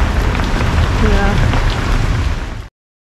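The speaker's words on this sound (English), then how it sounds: "the rain has not ceased. In fact, it's gotten worse." Heavy rain pouring down around a tuk-tuk on the road from Negombo to Colombo in Sri Lanka, a loud continuous roar of drops with a low rumble underneath, steady until it cuts off abruptly.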